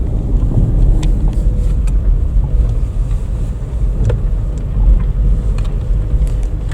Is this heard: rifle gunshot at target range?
no